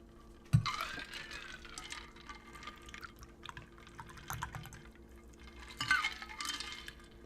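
Prosecco being poured into a glass, liquid trickling and fizzing in a few bursts at moderate distance, with a sharp clink near the start and quieter pouring later.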